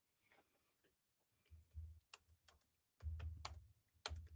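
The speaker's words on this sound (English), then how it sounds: "That's what I'm typing." A computer keyboard clicks in short, irregular bursts of keystrokes, quiet and fairly close, with separate taps and small clusters spread across a few seconds and no speech.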